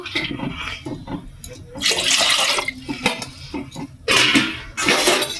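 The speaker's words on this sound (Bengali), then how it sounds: "এবার আমি জল দেবো মোমো সিদ্ধ হওয়ার জন্য।" Water is poured into a pot on a gas stove to boil momo, a splashing, rushing stream that swells and breaks off in bursts alongside clinks of the pot.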